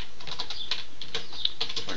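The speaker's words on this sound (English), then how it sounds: "If I can type." Light, uneven clicks of typing on a computer keyboard while entering a list name in an email marketing service, soft and close with short pauses between keystrokes.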